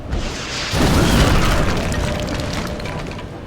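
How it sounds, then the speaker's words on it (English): A missile blast in XCOM: Enemy Within hits hard after a brief lull, then trails into a long, loud rumble of falling debris. "Now the question is, can I get them with a missile?"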